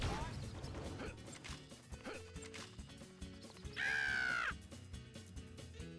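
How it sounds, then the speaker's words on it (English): A brief bird caw rings out as a Mr. Potato Head character's sound in the Toy Story 2 video game, a loud harmonic squawk cutting above busy game music and effects for about half a second. "Why did you make a bird sound, Potato Head?"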